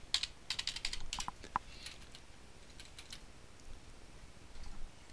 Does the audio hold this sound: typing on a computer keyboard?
yes